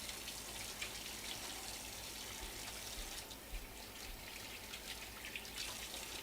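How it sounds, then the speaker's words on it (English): Tap water runs steadily into a kitchen sink while hands are washed, making a soft, continuous splashing hiss with small irregular splatters, fairly faint and with no speech over it. "Wash my hands."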